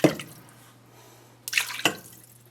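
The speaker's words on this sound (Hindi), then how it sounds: "1 लीटर पानी हम और डाल देंगे तकरीबन" Water poured into a pot of mutton for tahari stock, a short splash at the start and two brief splashing bursts near the end, close and fairly loud.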